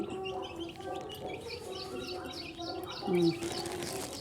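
Several hens and a rooster, country chickens, cluck softly and repeatedly nearby, with small chick chirps scattered throughout and one louder squawk near the end.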